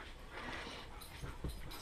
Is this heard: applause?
no